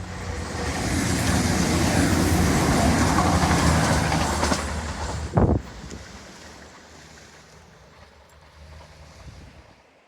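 A train rumbles past nearby along a seawall with a loud rushing roar and rattling wheels, then fades away into the distance.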